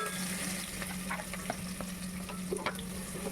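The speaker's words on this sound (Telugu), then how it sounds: "నేను ఏదైతే ఉల్లిపాయలు జీడిపప్పు వేపుకున్నానో అదే ఆయిల్లో మళ్ళీ వేపుకున్నాను అనమాట." Green chillies and onions frying in oil already used for frying onions and cashews, a steady close sizzle with faint stirring scrapes and no talking.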